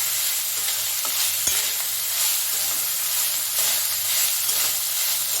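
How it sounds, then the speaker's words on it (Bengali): Cooked rice being stirred into a sizzling lemon rice mixture in a pan, a steady frying hiss with scraping spatula strokes and one sharp knock against the pan. "এক মিনিট মতো নাড়াচাড়া করব।"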